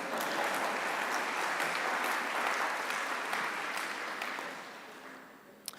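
Audience applause at a financial industry conference, a broad, even round of clapping from a large crowd that holds steady and then fades toward the end.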